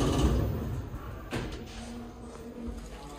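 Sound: Kleemann lift doors sliding open

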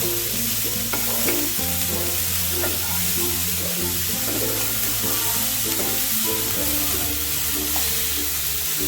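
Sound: vegetables, tomato and spices stirred in a frying pan

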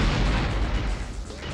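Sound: dynamite explosion in PS1 video game Apocalypse

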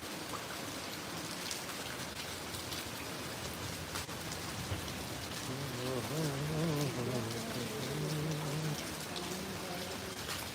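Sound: heavy rain falling

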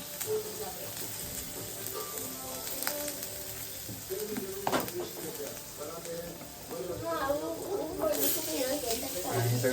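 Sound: tempering sizzling for amti (dal)

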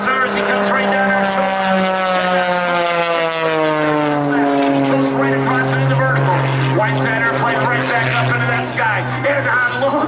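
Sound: stunt plane engine during air show aerobatics

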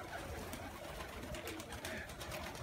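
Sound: pigeons cooing

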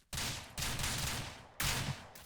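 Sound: gunshot from a rifle in the video game Ranch Simulator

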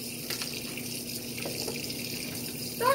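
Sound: tap water running

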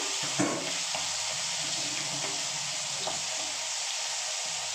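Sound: rohu fish head frying in hot oil

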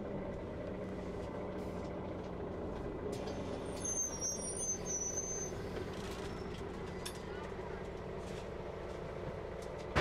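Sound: bus interior while riding

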